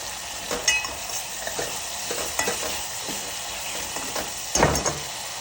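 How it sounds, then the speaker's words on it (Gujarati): Masala sizzles and fries steadily in a pan for a mixed green onion and tomato curry, with a spatula scraping and stirring now and then and a louder burst near the end. "મસાલો ચડવા દઈશું."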